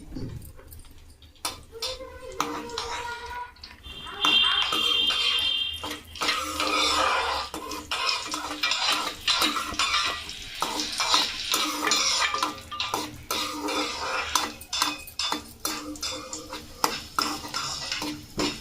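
Almonds fried and stirred in a pan for apple halwa, scraping and clinking of a utensil against the pan over a soft continuous sizzle, steady and close throughout.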